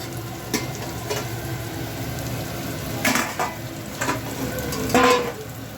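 A lid is lifted off a pot of pumpkin and mung dal cooking on the stove. Faint bubbling and sizzling sit under a few metallic clatters and scrapes, heard close up with no one speaking.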